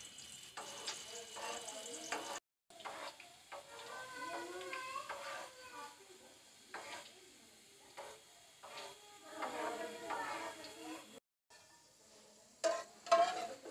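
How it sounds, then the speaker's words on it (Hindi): Sliced onions frying in ghee in a pan, a steady close sizzle with occasional stirring and scraping, lasting throughout with brief drops in level. "ये मैंने बहुत थोड़े से प्याज इसमें लिए हैं जिनको मैं फ्राई करके ये घी अपने मसाले में डाल दूँगी"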